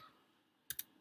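Two quick keystrokes on a computer keyboard while entering a hostname for an ESXi host setup, sharp clicks close together near the end of an otherwise quiet second.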